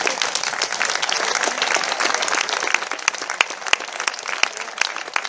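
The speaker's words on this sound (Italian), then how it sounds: "vorrei fare un grande applauso" A crowd applauds with sustained, dense clapping that carries on steadily, fairly loud and close, without any speech over it.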